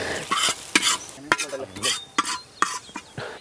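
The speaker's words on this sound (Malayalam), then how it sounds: "അപ്പോൾ അതൊന്ന് കൂട്ടി മിക്സ് ചെയ്ത് കൊടുക്കാം നമുക്ക്" Chili powder and turmeric being stirred into tapioca biryani in a pan: a spoon scrapes and clinks in repeated strokes over a soft sizzle, close and fairly loud, with no voices.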